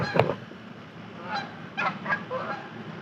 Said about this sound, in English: Oh, you got your geese flying north.